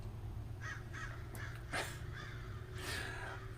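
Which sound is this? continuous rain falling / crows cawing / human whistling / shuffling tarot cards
crows cawing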